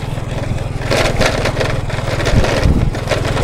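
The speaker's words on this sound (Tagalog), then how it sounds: "Itong gamit ko yung luma akong motor." An old motorcycle engine runs steadily with a low, throbbing pulse on a ride through a sugarcane plantation in Iloilo, close and fairly loud, with a couple of brief bumps near the end and no talking.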